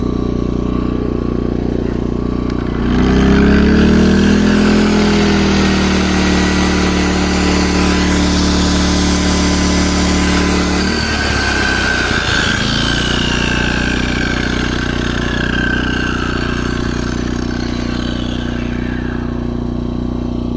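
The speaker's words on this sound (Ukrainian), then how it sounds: "Включаємо болгарку." A 2 kW inverter generator drones throughout while an angle grinder it powers whines up, holds, and winds down, with a loud continuous mechanical hum close by.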